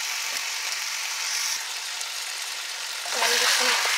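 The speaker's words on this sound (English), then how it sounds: "you put about 2 tablespoons of oil into a hot pan. And you throw your pumpkin in" Pork and pumpkin fry in about two tablespoons of oil in a hot pan for chili verde, a soft steady sizzle with a few clicks of a utensil and a louder burst of frying near the end.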